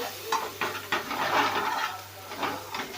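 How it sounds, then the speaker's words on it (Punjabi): Ingredients for dhaba-style paneer bhurji roasting in a pan, bursts of close crackling sizzle rising and falling with spoon stirring strokes, alone without talk. "ਇਹਨੂੰ ਭੁੰਨਾਂਗੇ ਹੁਣ ਹਲਕਾ ਜਿਹਾ ਸੇਕ ਥੋੜਾ ਜਿਹਾ ਘੱਟ ਕਰ ਲਾਂਗੇ"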